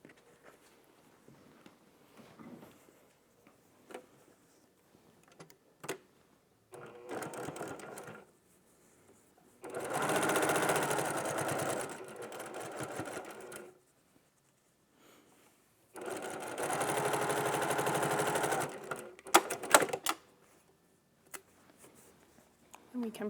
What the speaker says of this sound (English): I'm going to sew these two together and these two together